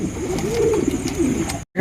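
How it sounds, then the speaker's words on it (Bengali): A pair of large lakha pigeons coo steadily in low, soft murmurs close by, with faint background noise and a brief drop to silence near the end. "রয়েছে একজোড়া লাখা কবুতর দেখতে পাচ্ছেন"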